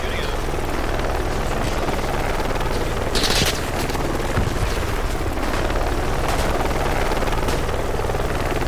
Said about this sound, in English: Nah, it was a small helo.